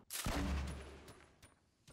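A single burst of gunfire in the video game Fortnite, loud and close with a sharp onset, then a fading tail and a few fainter shots trailing after.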